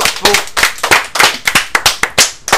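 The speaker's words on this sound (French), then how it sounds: "Bon bah on peut applaudir Tom." Clapping in a radio studio for Tom after his segment, a handful of close, loud, sharp hand claps in a fairly steady rhythm, briefly overlapped by a voice.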